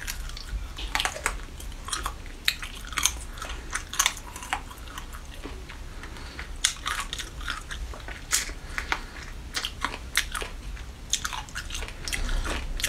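Spicy chicken feet being bitten and chewed up close, with a steady run of crunchy, wet bites and smacking chews, each bite a short crisp crack, no talking over them.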